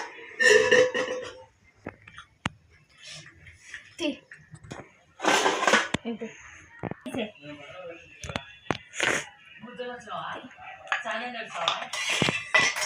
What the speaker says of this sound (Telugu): నేనైతే క్యారేజ్ కడుతున్నా మరి